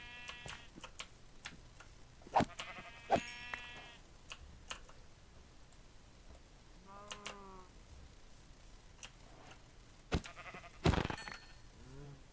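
Several video-game sheep bleat in short wavering calls, spaced apart, over a quiet background with scattered clicks.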